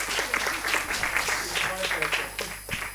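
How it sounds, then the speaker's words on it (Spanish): Studio audience applause on a comedy talk show comes as scattered, uneven clapping that rises and thins over a few seconds, with voices talking faintly beneath. "Podéis aplaudir."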